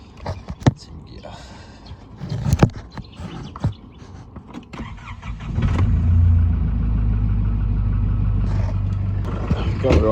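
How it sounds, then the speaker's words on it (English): A BMW E30 engine settles into a steady low idle after a cold start, loud and continuous through the second half, with scattered handling knocks and a few words before it. "Get a little bit of a cold start happening this morning."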